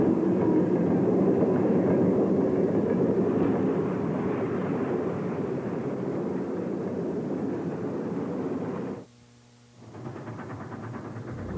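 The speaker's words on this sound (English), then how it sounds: "One of the road's many MBs, number 432, approaches with a work train near Herndon, West Virginia" A Virginian Railway class MB steam locomotive, number 432, hauls a work train near Herndon, West Virginia, a steady heavy rumble and roar that fades slightly before cutting off briefly near the end.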